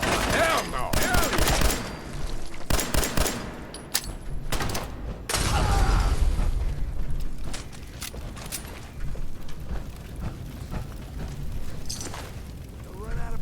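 Gunfire from a Fallout 4 gameplay session rings out in repeated loud bursts and volleys, with rapid shots and heavy booms dense through the opening seconds and continuing more sparsely afterward, mixed with game sounds and speech.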